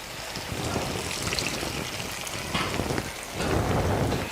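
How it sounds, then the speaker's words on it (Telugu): Water poured into a pan of black-eyed pea masala curry makes a steady, close splashing rush that keeps going throughout and swells louder near the end. "ఈ వాటర్ కూడా ఇందులో వేసేసుకుందాం"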